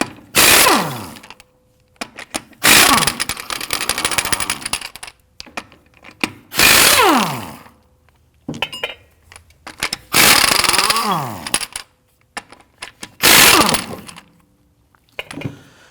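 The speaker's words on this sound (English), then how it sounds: "Using a 19mm socket, go ahead, loosen and remove the lug nuts." A power tool with a 19mm socket loosens lug nuts on the front wheel of a 2013-2019 Ford Interceptor Utility, in five loud ratcheting bursts of a few seconds each, separated by short quiet gaps.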